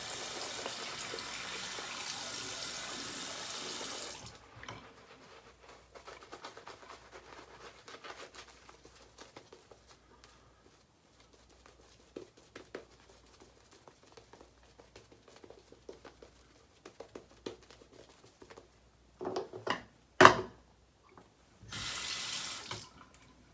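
Tap water runs into a bathroom sink during a wet shave, a steady hiss for the first four seconds, then scattered drips and small splashes, with two more brief bursts of running water near the end.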